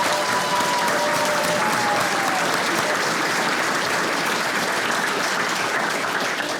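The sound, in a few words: audience applause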